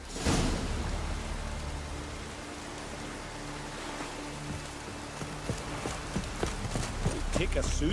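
Steady broadband hiss of rain in The Witcher 3 video game, with scattered sharper drops and taps growing toward the end, a low hum and faint voices underneath.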